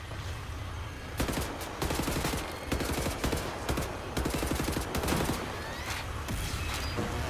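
Gunfire in Wolfenstein: The New Order crackles in rapid bursts, repeated volleys of sharp shots firing close and loud over a constant background roar.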